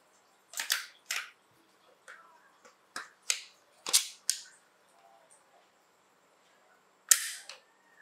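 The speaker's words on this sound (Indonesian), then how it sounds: "Tembakan pertama" Sharp, snappy test shots from a converted JINGJI MAXIM Defense gel blaster AEG firing 6mm, about eight distinct cracks spaced irregularly across several seconds, close and loud with no talking.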